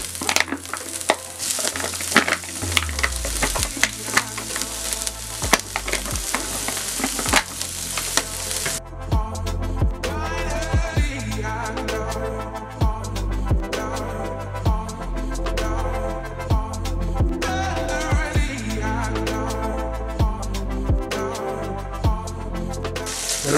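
Lardons and onions fry in a pan for a fougasse filling, with a continuous sizzle broken by repeated scraping stirs of a utensil against the pan, close and loud.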